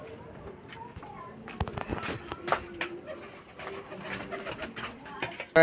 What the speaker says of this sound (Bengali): তো এখানে সব পায়রা দেখতে পাচ্ছ জল খাবে বলে এখানে আছে বসে আছে